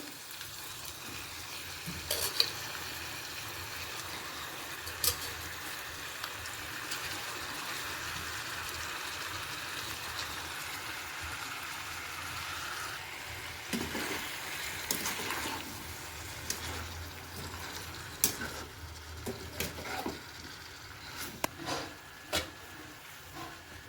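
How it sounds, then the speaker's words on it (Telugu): Brinjal pieces frying in a pan for a spicy masala curry with drumsticks, giving a steady, fairly loud sizzle with scattered pops and a few scraping stirs, no talking. "వంకాయ కూడా వేసేద్దామండి"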